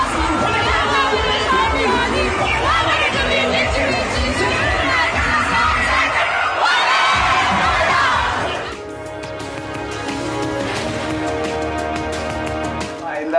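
A concert crowd cheers and shouts loudly as the artist jumps back onto the stage, a dense roar of voices that swells, then settles into lower, steady crowd noise.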